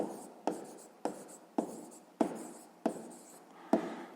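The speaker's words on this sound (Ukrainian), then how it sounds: "Ну що ж, записуємо відповідь." Pen or chalk scratching out an answer to a sixth-grade maths exercise, seven quick strokes in a steady rhythm, each a sharp tap trailing into a soft scrape, close and alone.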